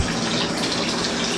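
Water gushing steadily from a delivery line fed by a one-third horsepower sump pump drawing from a stream about 340 feet away, filling an indoor pond of over 400 gallons; a continuous close, even rush with no pauses.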